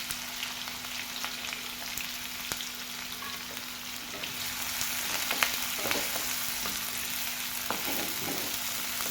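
Chopped onion and curry leaves frying in a pan for a dry prawn dish, a steady soft sizzle with a low hum beneath and a few faint stirring clicks, moderately quiet.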